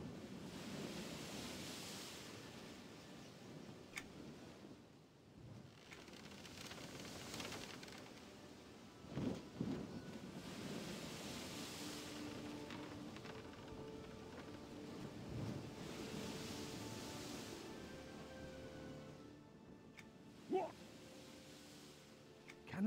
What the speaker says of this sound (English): Don't want the ship to come apart in these high waves, do you?